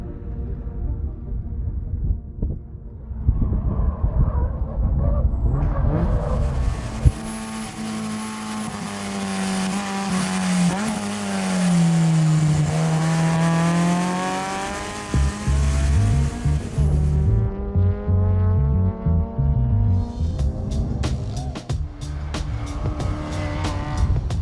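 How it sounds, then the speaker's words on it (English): A supercharged 2014 Subaru BRZ with Jackson Racing supercharger and Tomei headers drives hard on a race track, its engine roaring loudly through rising and falling revs with whining tones and brief tire squeal, dropping away near the end. "I'm driving a 2014 Subaru BRZ. We have a Jackson Racing supercharger on here"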